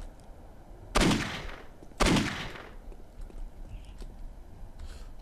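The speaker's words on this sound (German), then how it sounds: "Okay, 2 Schuss mit der Knarre." Two sharp, loud gunshots from a gun in the video game Postal 2 ring out about a second apart, each with a short decaying tail, and no one talks.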